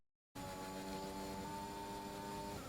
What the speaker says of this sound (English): Vapor really revving out there